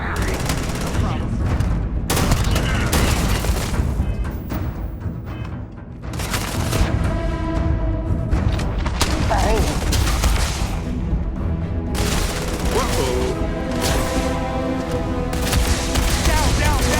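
Gunfire from the video game Starfield: dense, loud bursts of automatic fire and heavy booms run almost without pause, with a short lull near the middle and combat voices shouting now and then.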